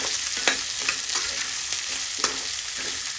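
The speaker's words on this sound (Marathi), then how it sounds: "व्यवस्थित हलवून घ्यायचंय भाजीला।" French beans bhaji frying in a pan is stirred with a spatula, making a continuous close sizzle punctuated by several sharp scraping clicks at irregular intervals.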